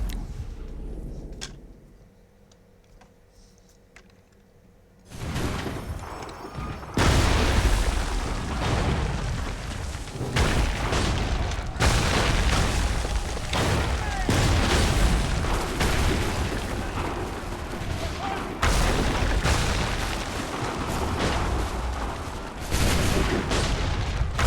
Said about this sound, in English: I tried to go after the artillery hit.